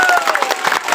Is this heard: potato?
no